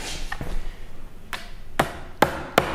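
A hammer drives a tack partway into a wooden canvas stretcher frame: three sharp taps in quick succession near the end, after a few softer knocks and handling noises, close and fairly loud.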